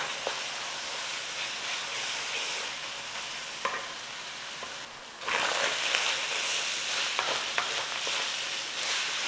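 Mince and onion for a pie filling are stirred in a frying pan, giving a broad, steady sizzling hiss with scraping stir strokes that grow louder partway through.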